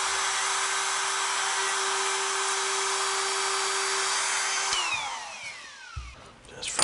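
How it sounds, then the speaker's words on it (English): A power tool makes a shallow cut to remove material, a steady high whine running several seconds, then falling in pitch as it spins down, with a few clunks at the end. "we're just going to make a very shallow cut to remove most of the"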